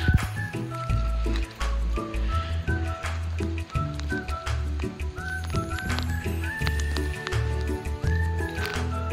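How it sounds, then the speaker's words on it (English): Water poured on a rainy day, a liquid splashing and trickling sound that runs steadily, mixed with low grunting animal noises close by. "thanks for that pour of water."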